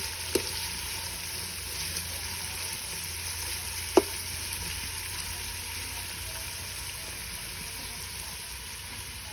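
Garlic and onion fry in a pan for goat papaitan, a steady broadband sizzle running throughout with two sharp clicks of a utensil against the pan.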